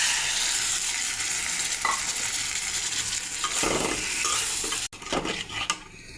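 Teasel gourd and prawns frying with spices in a pan, a continuous bright sizzle with stirring scrapes, briefly cut off by a sharp click before the hiss returns.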